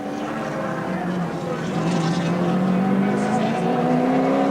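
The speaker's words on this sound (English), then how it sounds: "Peter Brock takes the checkered flag to win round 2 of the 1984 title" Group C touring race cars, including a green Ford Falcon, finishing a 1984 round at Symmons Plains: engines roar steadily with a rising whine as cars pass, while a commentator talks over them.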